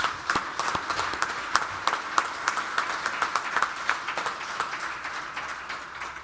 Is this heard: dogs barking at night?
no